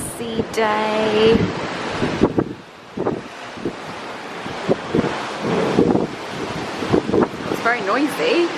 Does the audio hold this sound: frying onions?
no